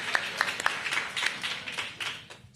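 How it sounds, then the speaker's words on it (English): An audience at a mayoral school-achievement event claps, a scattered run of sharp individual claps that thins out and fades over a couple of seconds. "Yes, clap that up."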